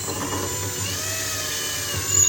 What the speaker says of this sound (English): I'm putting little pilot holes into the garbage can right where our pipes need to go